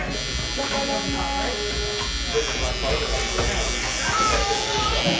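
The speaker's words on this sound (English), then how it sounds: "The trimmer feel too sharp in the back?" An electric hair trimmer buzzes steadily up close while cutting hair during a high taper haircut in a barbershop, with voices talking over it throughout.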